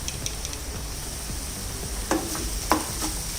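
Onion and tomato sauté in oil in a pan, giving a low, steady sizzle with light stirring sounds and a couple of brief utensil knocks near the end.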